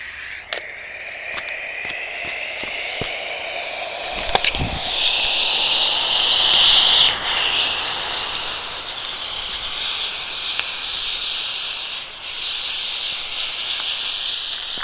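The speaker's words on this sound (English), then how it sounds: "Smoke bomb in the plant pot." A smoke bomb burning in a plant pot gives a long, steady, loud hiss that swells midway and keeps rushing on, with a few faint knocks near the start.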